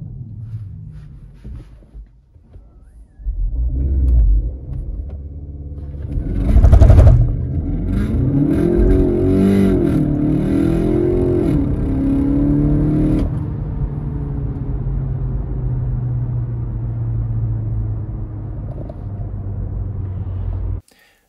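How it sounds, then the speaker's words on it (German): A VW Golf 8 GTE launches with launch control, its engine rumble swelling into a hard revving surge and rising acceleration whir that holds loud and close for many seconds, then settles into a steady driving drone. "Lässt man nun die Bremse los, so hat man die maximale Beschleunigung des Autos."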